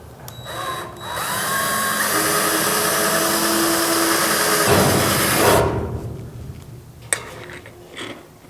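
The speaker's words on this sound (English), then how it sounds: "And let's drill this hole. Now I'm going to use a 3/32 bit." A power drill with a 3/32 bit boring a hole in sheet metal on a GTO restomod, a loud steady whine for about four seconds that then winds down, followed by a couple of small knocks.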